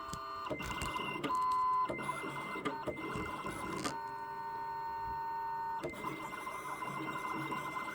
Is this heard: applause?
no